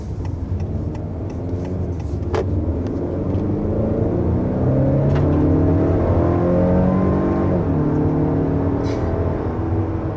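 A 2021 Acura TLX accelerates up a steep grade, its engine a steady, strong low rumble heard from inside the cabin, with rising and shifting tones as it pulls.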